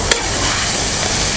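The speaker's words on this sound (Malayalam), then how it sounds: "മഞ്ഞപ്പൊടി ഉപ്പും കൂടി ഇട്ട് കൊടുത്തിട്ട് ഒന്ന് ഇളക്കി കൊടുത്തു" Onions stirred in a hot pan with turmeric and salt, a steady close sizzle with a brief scrape of the spoon near the start, in a Kottayam toddy-shop kitchen.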